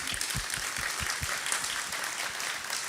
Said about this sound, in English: if you'd help join me in applauding our panelists